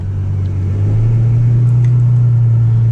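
Ferrari F12 V12 engine rumbling steadily from inside the cabin on a hot sunny day in New Jersey, a loud, constant low drone holding at a fairly even pitch through the whole stretch.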